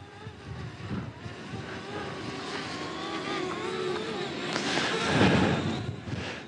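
A small camera drone hums and whines as it flies and descends through a Minnesota blizzard, with steady wind roar throughout and the motor pitch swelling louder near the end.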